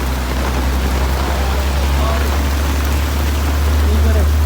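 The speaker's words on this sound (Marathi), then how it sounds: "अचानक असा भरपूर पाऊस आला" Heavy sudden rain pouring down, a loud, unbroken roar of drops with a deep low rumble underneath that persists throughout.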